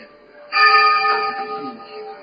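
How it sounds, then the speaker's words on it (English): Temple bells ring with a sustained shimmering tone that swells and lingers, layered over a low murmur of background sound. "I also hear temple bells"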